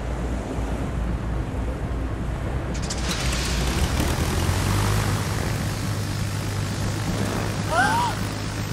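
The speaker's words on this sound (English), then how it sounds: "Launch an aircraft" In World of Warships, a carrier launches a propeller aircraft: after a steady sea and wind bed, a broad, loud roar swells in about a third of the way through and holds to the end, with a brief whine near the close.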